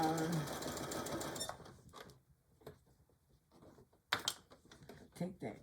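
Sewing machine back stitching a seam on a tool carry bag in one short, close burst of rapid mechanical whirring, followed by quieter handling clicks and rustles.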